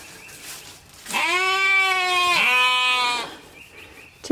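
Sheep bleating in a seeded pasture on a family farm: two long, loud wavering bleats close by, run almost together, with quiet rustling before and after.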